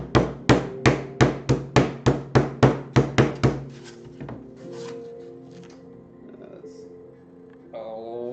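A hand tool smashes into a carved terrain cliff piece, landing about a dozen loud, evenly spaced blows in quick succession, followed by quieter handling noise and a voice.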